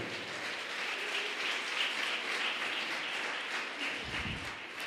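Church congregation applauding during a Portuguese-language worship service, a steady, dense wash of clapping that carries evenly through the whole stretch, with a brief low thump near the end.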